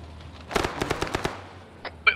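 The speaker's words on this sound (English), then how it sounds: "Hey, quit shooting." Rapid burst of game gunfire in ARMA 3, set in open-world Vietnam, about eight sharp cracks in quick succession, fairly loud, then a lull with a couple of isolated shots near the end.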